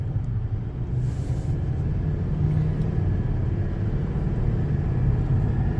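A Bison truck accelerates while towing a trailer, its engine giving a steady low rumble from inside the cab that builds gently as it gathers speed, with no one talking.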